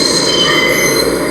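Continuous high-pitched metallic squeal of train wheels on rails, steady and loud over a low rumbling hum, with no voices.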